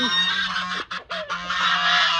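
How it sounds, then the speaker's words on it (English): Loud geese honking close by, a dense stretch of overlapping calls broken by a couple of brief pauses before the racket resumes. "Of course, the geese."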